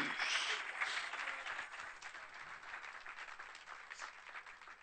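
Applause of praise fills a church service at an evangelistic crusade, a broad sustained wash of many hands clapping that stays steady and fairly full for several seconds, without anyone speaking over it.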